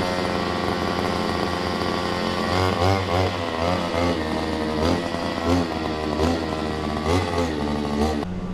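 A grass cutter runs outdoors, clearing long grass: a steady, close, buzzing small-engine drone holds throughout, with periodic rises and falls in pitch as the motor revs under load.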